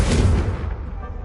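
A Confringo blasting curse detonates in Hogwarts Legacy as a single loud, close boom that rumbles and fades over about a second.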